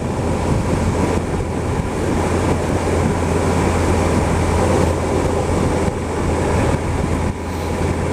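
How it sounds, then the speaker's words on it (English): Wind blowing hard and chilly, a loud steady roaring rush that continues throughout, close and unbroken, with no voice. "the wind coming through is"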